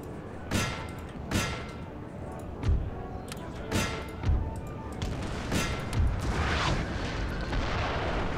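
Cannon and artillery fire in the Napoleonic-era battle game Napoleon: Total War: a run of heavy booming shots, roughly one per second, over a dense rumbling battlefield din that swells toward the end.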